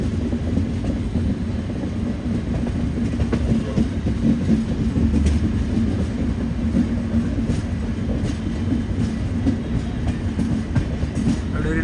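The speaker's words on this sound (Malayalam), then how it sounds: "ജോധ്പൂർ റെയിൽവേ സ്റ്റേഷനിലേക്ക് എത്തിക്കൊണ്ടിരിക്കുക" A Mandore Express train running toward Jodhpur station, heard from onboard as a steady, continuous rumble and rattle of wheels on track, fairly loud and even throughout.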